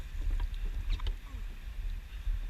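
A dragon boat crew paddles on open water during practice, with steady splashes and strokes over a low rumble of wind and water, fairly close and continuous.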